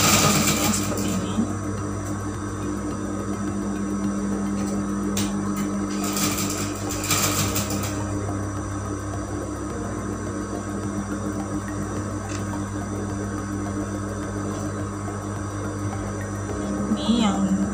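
Sewing machine stitching the top of a cloth 3D face mask, a steady mechanical hum with a few louder rattling bursts early on, running close and continuous throughout.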